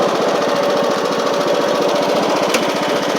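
A Poulan Pro PP19A42 riding mower engine runs steadily and loudly close by, a continuous rapid chugging drone with a short higher whine near the end and no talk.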